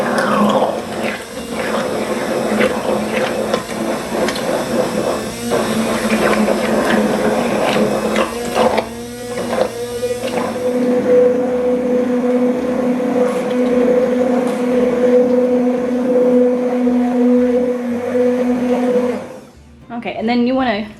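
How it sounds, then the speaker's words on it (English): A blender purees cooked pumpkin with a steady, loud whirring drone that runs for most of the clip, then dips briefly near the end and comes back. A voice talks over it. "always keep it down in to the pumpkin when you're turning it on, and this will take a while to blend up"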